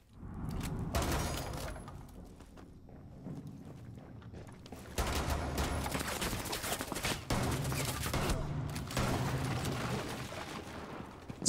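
Shotgun blasts and other gunfire in a multiplayer shooter game, with a player spawn-peeking: dense, loud, continuous bursts of shots and booms rolling through the whole stretch, with no voices over it.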